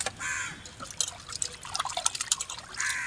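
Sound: water rinsing sea fish while washing

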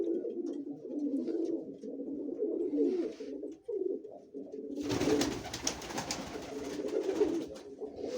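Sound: pigeon cooing

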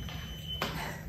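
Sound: dishwasher beeping after finishing its cycle

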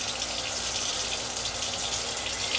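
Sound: water running while rinsing makeup brushes

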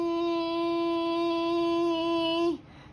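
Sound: imitated sound of swarming mosquitoes and black flies

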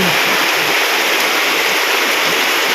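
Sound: heavy rain during flooding

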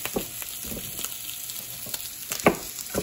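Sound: sausages sizzling while frying

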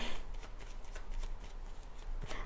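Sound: shuffling tarot cards

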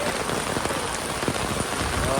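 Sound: heavy rain

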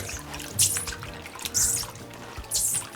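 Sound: rinsing pork liver with water

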